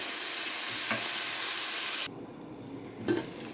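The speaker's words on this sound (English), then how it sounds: "we will let all of that simmer well together" Onion, green pepper and garlic simmer in a pan as pizza sauce is made, giving a steady close hiss with a couple of faint utensil clinks, then the sizzle drops to a quieter, softer bubbling.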